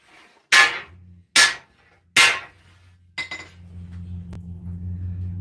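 A hammer forging a seven-foot sword blade styled after Berserk strikes three loud, ringing blows at an even pace. A steady low machine hum follows and continues to the end.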